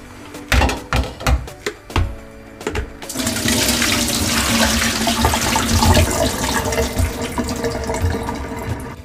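Running water pours steadily while dried hibiscus (zobo) is rinsed, starting after a few sharp knocks and handling noises, a continuous loud splashing rush with no talk.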